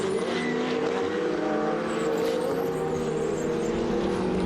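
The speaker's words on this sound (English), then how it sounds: "Absolutely brilliant sideways driving, Eric Chung." A Ferrari Challenge race car at Valencia slides sideways with its back end stepping out, the engine a steady loud roar throughout with no pauses, heard alone without talk.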